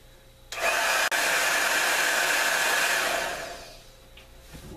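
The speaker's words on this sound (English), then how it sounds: "When you're using your blow dryer, come straight down on it, otherwise you'll blow it all over the place." A blow dryer roars steadily and loudly for about three seconds while drying a sheet of wet homemade paper, with a brief dip early on, then fades off, leaving a quieter hiss.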